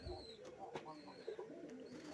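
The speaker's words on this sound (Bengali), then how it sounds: "এই যে একটি সাদা নর কবুতর।" A white male pigeon coos softly in a loft, giving low, throaty calls that are quiet and close, with a faint voice in the background.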